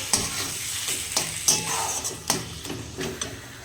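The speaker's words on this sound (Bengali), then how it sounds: "মশলার সাথে এবার মোচাটা ভালোভাবে কষিয়ে দেবো" Banana flower sautéed in a pan with cumin, turmeric and dry chili powder: a steady sizzle broken by repeated scraping strokes of a spoon stirring the mixture, close and clear, with no talk.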